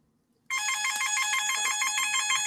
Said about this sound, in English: damn phone! It's been a ring for like 2 days straight.